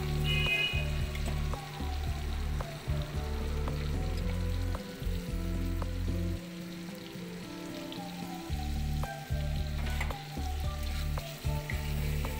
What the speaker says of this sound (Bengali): এবার একটুখানি আদা বাটা আর থেতো করা রসুনটা দিয়ে দেব।